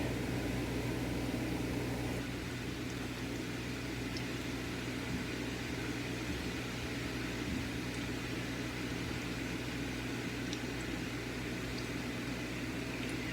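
Funnel cake batter fries in hot oil, poured in a connected lattice pattern, giving a steady, dense sizzle and bubbling hiss that holds evenly throughout with no talking.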